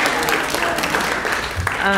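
An audience applauds at the 37th annual Harbor One Bank Awards ceremony, with dense, steady clapping filling the room, and a voice is heard over it near the end.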